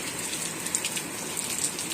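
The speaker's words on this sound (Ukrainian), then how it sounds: "Подивіться, в нас дощ." Heavy rain falls steadily outdoors, a dense, continuous hiss with scattered droplet taps, close and even in loudness with no talking.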